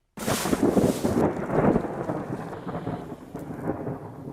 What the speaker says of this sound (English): as you can hear, it's been thundering, which means it's going to start pouring down in a second.